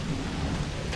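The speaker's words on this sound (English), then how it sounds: "The rain didn't want to hold off on us" Steady rain falling outdoors during work on a Caterpillar engine, a dense, continuous wash of noise with a low rumble, close and fairly loud, no voices.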